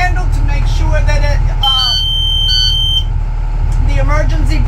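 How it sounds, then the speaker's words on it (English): A school bus emergency exit buzzer sounds near the middle, a steady high electronic tone lasting about a second and a half over an idling engine, with someone talking before and after. "the emergency buzzer goes off"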